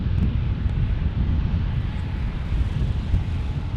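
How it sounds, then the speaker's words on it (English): A Cessna Citation Mustang business jet passes over a San Diego airport, its engines a steady, broad roar mixed with wind buffeting the microphone, continuous for several seconds with no voices. "Citation Mustang from Phoenix."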